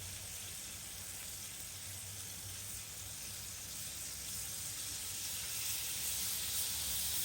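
Chicken sizzles on a Blackstone griddle with a steady, faint, hissing crackle that grows slightly louder toward the end, heard alone.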